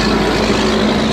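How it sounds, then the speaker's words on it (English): A loud truck passes close by, giving a brief, steady low engine rumble and drone with no gaps. "loud truck"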